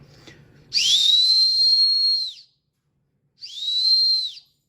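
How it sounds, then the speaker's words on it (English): Two loud, shrill blasts from an emergency survival whistle, the first long and sustained, the second shorter after a brief silence, preceded by a faint rustle. "The emergency whistle can blow loud enough for help."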